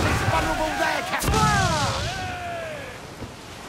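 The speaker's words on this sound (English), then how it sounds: "Incoming fire! Here it comes!" Ship cannon fire in the naval battle game Assassin's Creed IV Black Flag: a dense, rumbling barrage with a sharp boom near the middle, then whistling, falling tones as shots fly. Crew voices are heard faintly under it.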